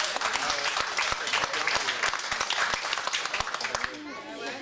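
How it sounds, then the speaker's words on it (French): At a village flea-market show, the audience claps for a woman named Olivia, a lively round of sharp, distinct handclaps close by, mixed with crowd chatter and a voice, tapering near the end. "Vous pourriez l'applaudir"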